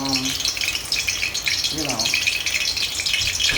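Steady sizzling and crackling of chicken frying in oil fills the background, loud and continuous, with a brief clatter midway.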